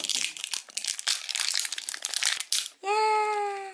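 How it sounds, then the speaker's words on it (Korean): Plastic wrap is peeled off a Tayo bus toy car along a perforated line, a loud continuous crinkling and tearing for over two seconds, followed by a short high tone. "비닐을 벗겨줄게."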